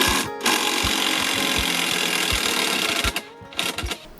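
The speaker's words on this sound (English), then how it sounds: "we fix it off with a screw" A 150mm screw is driven into 95mm-thick retaining-wall timber with a power driver, a steady close whirring grind with repeated low knocks and brief pauses near the end.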